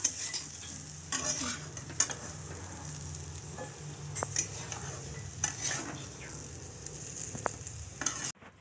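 Potatoes frying in hot oil in a home kitchen, a steady low sizzle broken by occasional scrapes and clinks of a stirring utensil against the pan.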